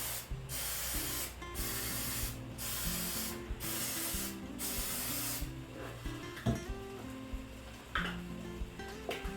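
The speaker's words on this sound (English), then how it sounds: "You can use cooking spray," Cooking spray greasing a non-stick muffin pan for potato skins, five short evenly spaced hissing bursts followed by softer clinks and rubbing sounds of the pan being handled.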